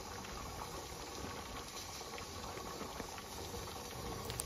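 A pressure canner holding corn boils steadily, making a soft continuous bubbling and hissing patter that stays even and close for a few seconds with no voices.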